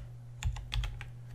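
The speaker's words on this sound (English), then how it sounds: "So I'm going to start typing in rebar" Close computer keyboard typing comes as a few quick separate keystrokes in a short irregular burst, fairly quiet over a low steady hum.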